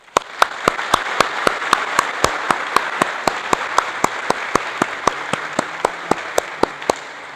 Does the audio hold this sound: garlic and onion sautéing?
no